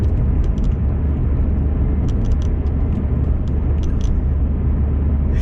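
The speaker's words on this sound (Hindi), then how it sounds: "तो देखो जहाज भी आ गया" A passenger plane coming in to land, heard as a loud, steady, broadband roar and low rumble that holds for the full stretch without a break. Faint higher-pitched clicks and ticks appear here and there on top of the roar.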